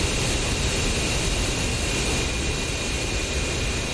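F-15 jet engines, both running, as the fighter taxis in the DCS flight simulator: a steady, loud, broadband roar with a thin high whine that holds unchanged throughout, with no talking.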